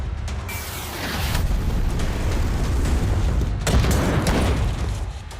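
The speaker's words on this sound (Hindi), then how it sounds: "लड़ाकू विमानों से बमबारी" Fighter jets bombing in the Israel–Gaza war set off a series of heavy, rumbling explosions, with sharp bursts breaking out over a continuous low roar, loud and overlapping.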